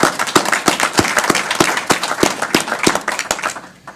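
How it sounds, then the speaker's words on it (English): An audience at a board of education meeting claps, a round of applause with sharp, irregular claps close by that thin out toward the end. "but another round of applause."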